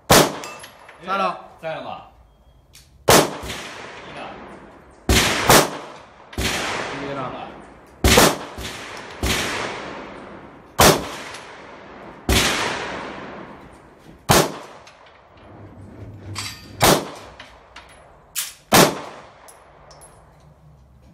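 SIG Sauer P226 MK25 pistol fired repeatedly at a range, about a dozen sharp, loud shots spaced a second or two apart, each with a ringing tail. Someone talks quietly between some of the shots.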